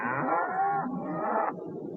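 Cattle confined in a feedlot, a loud, close, drawn-out moo that shifts pitch midway and carries on in a lower tone, with no other sounds around it.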